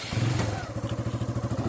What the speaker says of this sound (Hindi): हम जा रहे हैं बाइक पर।